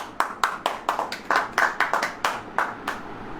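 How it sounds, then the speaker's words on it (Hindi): A church congregation claps along during a sermon, about a dozen sharp, distinct hand claps in a loose, steady rhythm, fairly close and clear with no talking over them. "ताली बजेगी"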